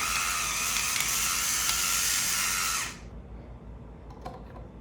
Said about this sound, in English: a little grind of black pepper going in